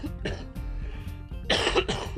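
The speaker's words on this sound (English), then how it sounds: "I will try to edit out that little coughing fit." Several harsh coughs in quick bursts, with a louder, rougher pair toward the end, close to the microphone and over a steady low background hum.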